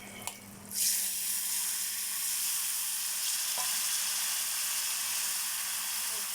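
Tamarind juice poured into a hot pan for temple-style pulihora erupts in a loud, steady sizzle after a brief clatter, holding a continuous bright frying hiss for several seconds with a small tap midway.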